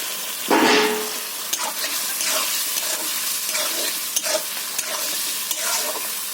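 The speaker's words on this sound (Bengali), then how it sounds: "ভেজে রাখা লাউটা আমি দিয়ে দিই।" Fried bottle gourd pieces tipped into a cooked-down spice paste in a pan, giving a loud sizzling burst followed by steady frying hiss and repeated scraping stirs.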